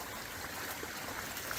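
Creek water flowing over rocks in a desert canyon, a steady, even rushing wash that fills the short stretch without pauses or voices.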